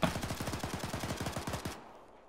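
Rapid automatic gunfire from an Arma 3 firefight, a steady burst of roughly twenty close, loud shots in quick even rhythm, stopping abruptly near the end with a short fading tail.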